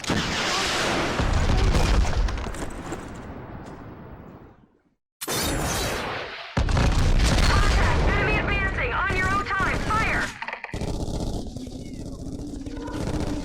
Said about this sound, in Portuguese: tiro de bazuca